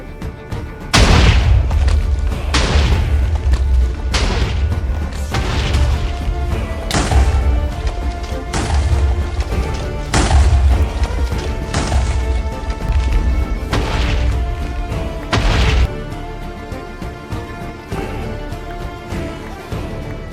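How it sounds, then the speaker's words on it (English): Repeated loud booms from an automatic TNT rail cannon in Minecraft, fired about 90 blocks from a house, strike every second or two in a steady barrage of heavy blasts that roll into one another. "So I built an automatic TNT rail cannon and set it up roughly 90 blocks away from the house to blow it up."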